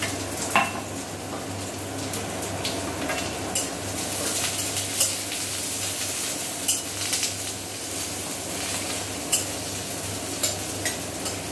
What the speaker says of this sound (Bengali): এবার আমরা তেলের মধ্যে দিয়ে দিচ্ছি কেটে রাখা পেঁয়াজটা